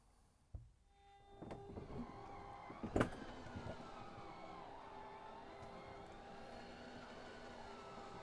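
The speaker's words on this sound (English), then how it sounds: "So I'm going to run this slide out right here." An electric Schwintek-driven slide-out on a 2025 Renegade Classic motorhome runs, its steady motor hum and faint mechanical whir continuing for several seconds after a brief clunk as it starts.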